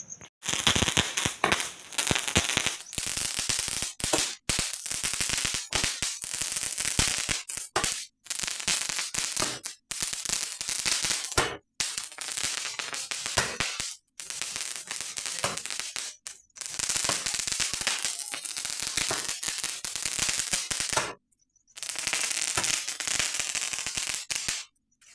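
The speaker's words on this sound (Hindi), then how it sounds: "सुतली बम अनारदाने वगैरह बहुत सारे रखे थे" Rapid bursts of Diwali firecrackers, including sutli bombs, crackle and pop in long dense strings, loud and close, broken by brief pauses.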